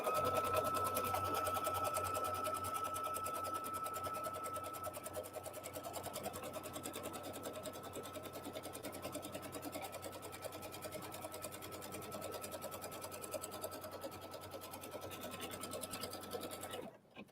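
A sewing machine runs a dark-thread tack-down stitch on a seasonal quilt block, a steady continuous motor hum with rapid needle chatter lasting the whole stretch, close and fairly even, stopping abruptly at the end.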